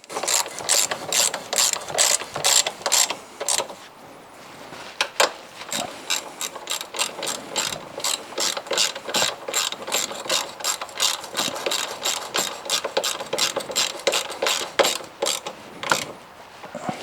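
A hand ratchet tightens bolts on an old Yamaha Warrior 350 quad, rapid close clicking in bursts with brief pauses between strokes.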